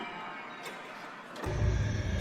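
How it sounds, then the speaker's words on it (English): Eerie clock sound sampled from a Stranger Things scene, quiet and hazy at first with faint ticks, then swelling into a louder, fuller low-end texture in the last second. "Then I filled it up with this Stranger Things inspired clock sound."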